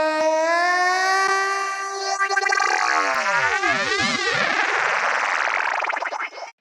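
A singer's sung voice run through a Valhalla frequency echo effect: a held tone breaks into swirling, pitch-shifting echoes that sweep up and down in wild, metallic cascades, loud and continuous for several seconds.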